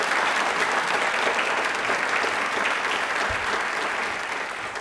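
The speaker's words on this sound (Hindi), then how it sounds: "एक बार अपने लिए तालियां बजा दीजिए प्लीज" Audience in a Rajasthan TV quiz studio claps vigorously in a thick, even burst of applause that stays loud throughout and eases only slightly near the end.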